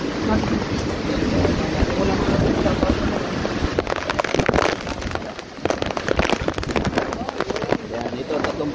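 Typhoon wind and rain batter the area in Baguio, a steady roar of gusting wind with microphone buffeting and irregular bursts as heavy gusts hit, loud and continuous with no pause.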